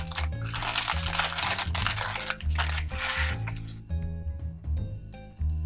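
Rice poured and pressed into a small plastic bag, bursts of crinkly rustling and grainy rattles in short uneven bouts, close and fairly loud over a low background hum.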